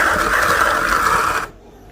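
Starbucks Sumatera dark roast coffee beans run through a grinder with a steady, close whirring rasp that cuts off abruptly near the end.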